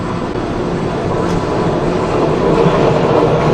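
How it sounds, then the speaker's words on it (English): A train passing close to a residential building in Prague, a loud sustained rumble and roar that grows slightly stronger through the stretch, with faint wind and no talking. "there is going to be probably a lot of me stopping in the middle of talking when a train comes by"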